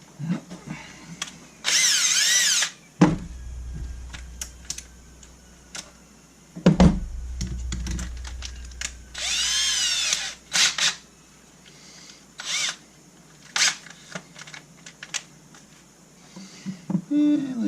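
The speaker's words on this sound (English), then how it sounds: "Get the drill." A power drill whirs in several short bursts of a few seconds each, used to spin a McCulloch 3200 chainsaw engine during a spark test after reassembly, with clicks and handling noises between the runs.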